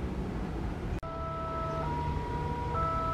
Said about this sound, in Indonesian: Sirine sudah berbunyi ya.